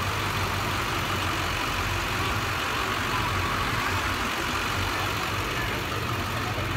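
A bus engine idles loudly and steadily nearby, a constant deep rumbling drone with no breaks or changes in level.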